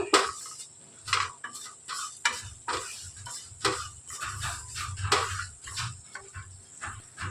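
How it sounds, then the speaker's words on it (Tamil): Oats dry-roasting in a pan, heard as steady scraping and clinking of a spatula against metal in uneven, rhythmic strokes, close and moderately loud with no talking. "ஒரு ஃபைவ் மினிட்ஸ் நல்லா நம்ம இதை ரோஸ்ட் பண்ணி எடுத்துக்கலாம்"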